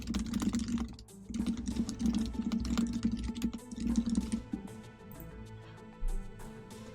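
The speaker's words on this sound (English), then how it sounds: "I will type something in and just see what it does" Close, rapid clicking of typing on a computer keyboard in uneven bursts, slowing to a few scattered keystrokes toward the end.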